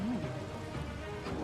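Steady rain hisses across the whole short stretch in the video game Biomutant, a dense, even wash of droplets with a faint voice-like tone near the start.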